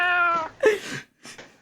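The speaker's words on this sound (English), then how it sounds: "can you add in some meowing noises?" A cat meows, added as a sound effect: one long, clear, close meow followed by two shorter meows, loud and alone.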